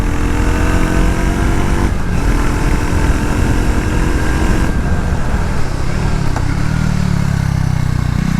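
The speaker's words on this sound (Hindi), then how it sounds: "एग्जॉस्ट नोट का अलग ही थम्पी साउंड है।" Triumph Tracker 400 motorcycle on the road, its thumpy single-cylinder exhaust note running loud and steady throughout, with a brief shift in engine tone partway and a lower rumble toward the end.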